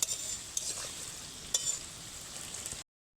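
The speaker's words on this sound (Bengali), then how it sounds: "তেলের কড়াইতে নিমকিগুলো দেওয়ার মিনিট খানিকের মধ্যেই কিভাবে পাট পাট হয়ে ছেড়ে যাচ্ছে দেখুন" Continuous close sizzling of nimki (flaky dough snacks) frying in a wok of hot oil, a hissy crackle with occasional louder pops, then it cuts off abruptly.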